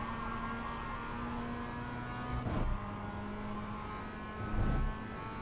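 A race car circles Lime Rock Park, its engine droning as a steady, fairly quiet tone with two short louder bursts as the throttle comes back on.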